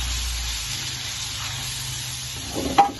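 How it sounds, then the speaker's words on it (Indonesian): Ground spice paste for Padang-style grilled fish sizzles steadily in hot oil as it is sautéed, a constant close hiss with a brief clatter of stirring near the end and no talking. "Kita tumis sampai bumbunya berbau harum"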